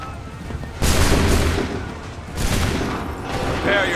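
A musket volley in Assassin's Creed 3: a sudden loud burst of massed gunfire followed by a second crackling blast and rumbling echoes, with shouting voices around it.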